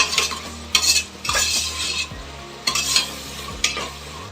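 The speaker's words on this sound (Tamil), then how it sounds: "முதல்ல எண்ணெயில் தாளிச்சுக்கிடுவோம், அப்படின்னா தான் அந்த ஃப்ளேவர் நல்லா கொடுக்கும்." Whole spices temper in hot ghee and oil for mutton biryani, sizzling steadily while a metal spoon scrapes and stirs the pan in repeated bursts, with no talking.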